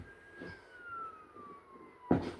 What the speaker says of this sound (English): Emergency vehicle sirens off in the distance.